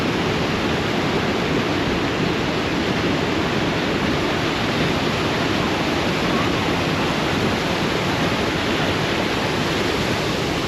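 Rushing water from a large waterfall, a loud, steady broadband roar that stays unbroken and close throughout with no other sounds rising above it.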